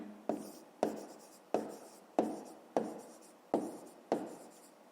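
A pen writes on paper while working a maths exercise: about eight crisp, close scratching strokes come in a steady rhythm roughly every two-thirds of a second, with no talk.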